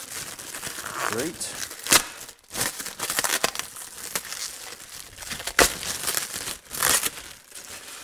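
Plastic wrap crinkles and tears as snowmobile side deflectors are unwrapped, giving close, irregular rustling bursts and sharp crackles, with a voice speaking briefly between them.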